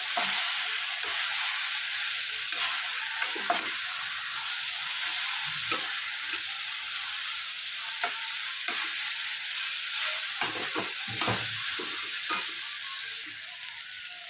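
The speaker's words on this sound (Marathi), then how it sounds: "थोडंसं हिंग चिमडून पहिला छानसं परतून घेणार दोन मिनटं" Vegetables sauté in hot oil with a pinch of asafoetida in a pan for a dry brinjal and dried-fish curry, giving a steady close sizzle with occasional stirring clicks and scrapes throughout.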